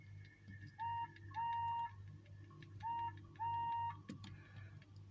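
A whistle sounds in short repeated two-note phrases, clear and fairly faint, over a low steady hum in an animated scene.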